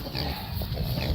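Pigs grunt low and steadily in a muddy farm pen, close by and continuous for a moment.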